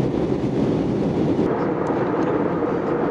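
Steady, loud roar of a passenger airplane's engines heard from inside the cabin in flight, a broad constant drone with no talking.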